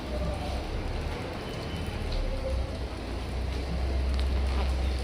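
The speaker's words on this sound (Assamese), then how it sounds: "আজি গোটেই ৰাতিটো এনেধৰণেই বৰষুণ দি আছে" Steady night rain falls without pause, a dense, close hiss of drops striking surfaces that holds at a constant level for the whole stretch.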